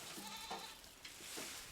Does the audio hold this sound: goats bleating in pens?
yes